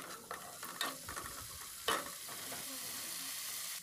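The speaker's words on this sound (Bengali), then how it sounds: "এখন ভালো করে এটা কষতে লাগছি।" Cabbage and egg curry with tomato sauce being stir-fried in oil, a steady close sizzle broken by scraping stirs and a few sharper knocks of the utensil against the pan.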